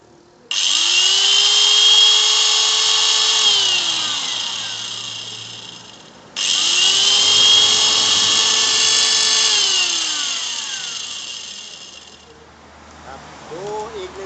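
A Metal Melik angle grinder running with no load, started twice: each run whines up to a high steady pitch, holds for several seconds, then winds down, close and loud, with a brief faint rattle after.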